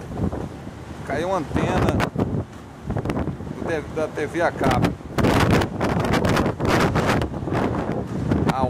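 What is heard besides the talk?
strong wind during a storm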